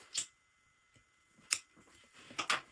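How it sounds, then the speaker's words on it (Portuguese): Scissors snip through a zipper while making a phone-holder wallet, three sharp close cutting crunches spaced apart with quiet between them. "O meu zíper aqui, ó, eu vou cortar"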